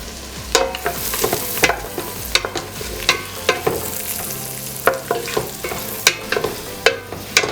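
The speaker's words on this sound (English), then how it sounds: "మంచిగా golden brown colour అయ్యే వరకు, ఓవర్ బ్రౌన్ అయిపోదు" Chopped onion and garlic fry in a pan with bay leaf, a busy close sizzle punctuated by frequent sharp spatula scrapes and knocks, with no talk.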